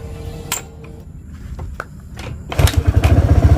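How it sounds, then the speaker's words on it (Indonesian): A motorcycle is kick-started: a few scraping kicks and thumps, then the engine catches at about 2.6 s and settles into a loud, close, steady throbbing idle. "saya akan coba hidupkan motornya terlebih dahulu. Hidup ya, kita coba engkol."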